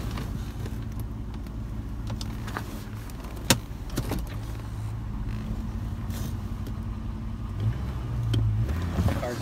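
A car engine running steadily at idle, a low continuous rumble with a brief sharp click partway through and a slight rise near the end, close by with no voices.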